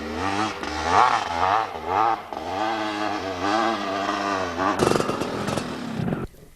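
Enduro motorcycles ride the Mountain Top Enduro trail, engines buzzing and revving up and down in repeated bursts close by, ending with a rattling clatter.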